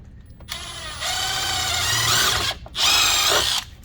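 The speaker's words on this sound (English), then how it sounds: "We have our drill with 5/16 drill bit. We're just going to center it in each of these holes," A power drill with a 5/16 bit whirs steadily at high speed, cutting into fender material on a Yamaha Wolverine RMAX4 1000, pauses briefly, then spins up again for a second burst.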